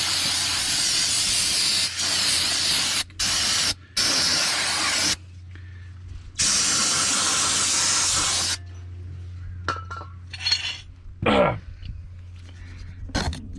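Several loud bursts of aerosol brake cleaner hiss close by onto the front brake pads of a 2014 Dodge Charger SXT, separated by brief pauses, followed by quieter rustling and a throat clearing.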